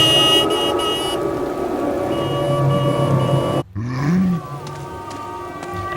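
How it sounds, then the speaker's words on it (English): A car horn honks in the video game Forbidden Siren, a sustained steady blare that cuts off abruptly partway through, followed by a lower rumbling tone and ambient noise. "Honk the horn."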